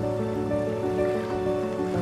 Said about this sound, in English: The waves rise high out in the open seas.